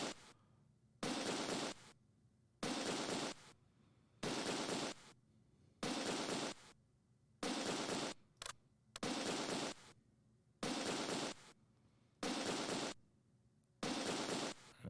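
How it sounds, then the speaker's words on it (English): Infantry gunfire in Close Combat 2 during a World War II battle, rattling in regular bursts of about a second each, evenly spaced with short quiet gaps, loud and close with no talk. "Wasting a whole bunch of ammo just firing off at these guys."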